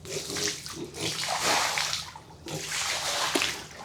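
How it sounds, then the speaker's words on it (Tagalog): Clean water pours steadily in a splashing, sloshing stream into a piglet pen, pausing briefly before pouring again, close by and fairly loud. "Tapos buhusan natin ng another malinis na tubig."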